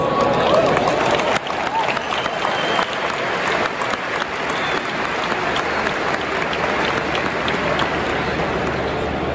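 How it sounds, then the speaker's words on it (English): Loud, dense applause from a large crowd at a tech conference in Lisbon, steady and sustained throughout with a broad wash of clapping hands. "A round of applause."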